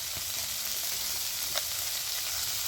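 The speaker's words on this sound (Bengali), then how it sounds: "এই উপকরণগুলো সব আমি ভালো করে মিশিয়ে নেব" Mushroom chilli ingredients, including turmeric and salt, frying in a pan with a steady, close hiss of sizzling oil and an occasional light stirring scrape; no voices.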